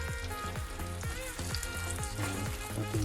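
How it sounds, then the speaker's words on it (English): Amlokir simmering slowly in a spicy syrup in a pan for achar, with a steady close sizzle and bubbling throughout, busy and continuous with no talk over it. "So what I do now, I just put this Amlokir and keep it on slow cooking."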